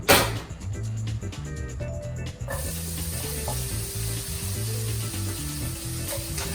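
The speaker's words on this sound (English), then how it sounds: "some olive oil into this hot pan just to help get the bacon going" Thick bacon strips sizzle and crackle in a hot pan with olive oil, with a loud, steady frying hiss close up and some clattering as they settle.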